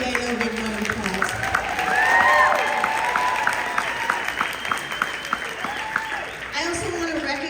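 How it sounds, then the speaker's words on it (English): A conference audience breaks into applause, loud dense clapping with some cheers that swells to a peak partway through and then thins out, while voices talk over it. "Let's give Daniel a big round of applause."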